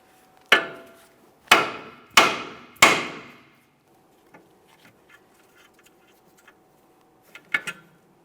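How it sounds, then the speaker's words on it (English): Four sharp, loud hammer blows ring out on the steering knuckle of a 2008-2017 Mitsubishi Lancer to free the outer tie rod end, evenly spaced, then a quiet pause with faint clicks and a final light double tap. "we'll continue on with a hammer"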